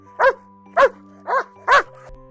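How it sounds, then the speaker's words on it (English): A small dog in a forest gives four sharp, evenly spaced barks, loud and close, each a short bright yap with brief silence between. "Toto barked bravely"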